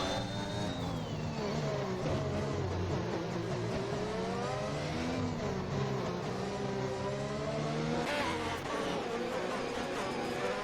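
Formula 1 race cars in F1 2021 at the Brazil circuit, engines whining and shifting pitch continuously as cars fly past on track, steady and moderately loud throughout.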